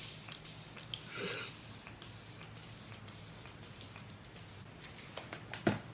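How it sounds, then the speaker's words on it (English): Short, soft hissing bursts of a makeup setting spray mist, several quick pumps in a quiet room, close and faint. "So let me spray this on."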